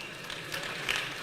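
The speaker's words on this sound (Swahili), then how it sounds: "Wapigieni makofi." An audience at an outdoor Ushirika Day cooperatives celebration in Uhuru Park, Nairobi, claps in a brief burst of dense applause that swells slightly toward the end.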